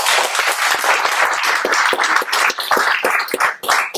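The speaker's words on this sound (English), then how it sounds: "Doesn't that deserve applause?" An audience breaks into loud, dense applause at a spiritual talk, with many hands clapping steadily for about four seconds before the clapping thins at the end.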